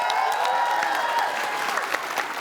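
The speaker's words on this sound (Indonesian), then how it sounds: "Oke, kita tepuk tangan lagi" A studio audience at a televised crossword quiz game bursts into applause, a dense, even wash of clapping heard on its own and held throughout.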